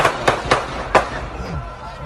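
Gunfire near a business plaza parking lot, three or four sharp pops in quick succession from some distance, then quieter noise.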